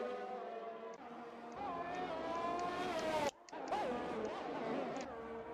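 Aston Martin Formula 1 car on its out lap in F1 2021, a high engine whine that rises and falls as it shifts gears, moderately loud, with a short gap partway through.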